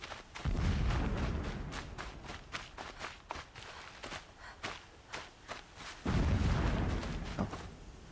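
Explosions in the video game Horizon Zero Dawn, two heavy low booms a few seconds apart, each rumbling briefly, with lighter footstep-like thuds and clatter between them.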